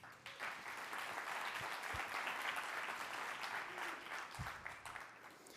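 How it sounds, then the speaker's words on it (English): Audience applause at a summit event, a steady wash of many hands clapping for several seconds at moderate volume, with no talk over it. "And so, applause for Axios events."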